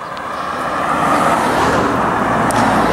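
Steady road traffic noise near an oxbow lake, with cars rushing past close by in a continuous loud roar that swells slightly as vehicles pass, with no talking.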